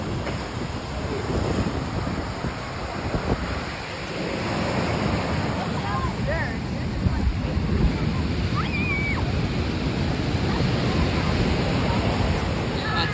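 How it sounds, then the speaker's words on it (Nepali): Sea waves washing onto a crowded, sunny shore, a steady broadband roar of surf and wind running throughout, with distant crowd murmur and a few faint bird calls above it. "समुद्रको छाल त हेर्ने हो हामीले"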